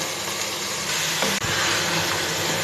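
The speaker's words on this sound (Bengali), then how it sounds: "নেড়ে চেড়ে আলুটাকে মাছের সাথে মিশিয়ে নিচ্ছি" Chopped potatoes frying with prawns in a pan, stirred in with them, giving a continuous close sizzle with a brief scrape or knock midway, no talk.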